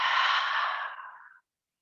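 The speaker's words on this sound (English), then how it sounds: "Exhale out through the mouth." A single deep exhale through the mouth during a prenatal yoga breathing exercise, a close, breathy rush of air that fades out after about a second and a half, then silence.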